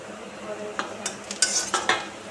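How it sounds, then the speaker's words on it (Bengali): Chopped onions fry lightly in a pan, a soft sizzle broken by a few sharp spatula scrapes and clinks against the metal, close and fairly quiet. "পেঁয়াজ কুচিটা বেশ ভালো করে নেড়ে চেড়ে ভেজে নিতে হবে হালকা"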